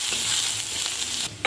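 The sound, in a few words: stirring turmeric into sizzling tempering in a pan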